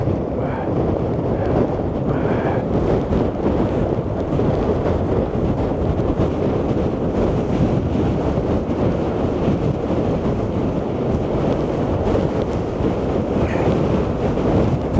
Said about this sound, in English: But I think the wind's actually keeping the waves down.